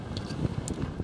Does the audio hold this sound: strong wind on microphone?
yes